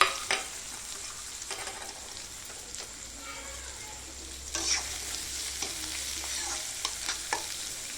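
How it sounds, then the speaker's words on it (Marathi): Onion sizzles in hot oil in a pan after bombil fish, a steady close frying hiss broken by the scrape of stirring, with no speech. "लालसर रंग येऊपर्यंत कांदा परतून घ्यायचा."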